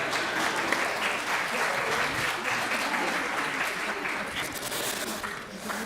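Dense applause from a congregation at a school service, steady and sustained for several seconds, with faint voices mixed in underneath.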